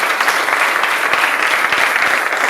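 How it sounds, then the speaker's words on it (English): Audience applause for girls at a pad scholarship sit-down, a steady dense wash of many hands clapping, loud and close, sustained without pause and with no talk over it. "A round of applause for yourself."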